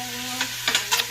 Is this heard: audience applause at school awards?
no